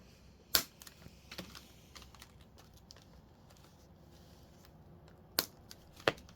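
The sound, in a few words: trimming the mounting tab of a plastic model kit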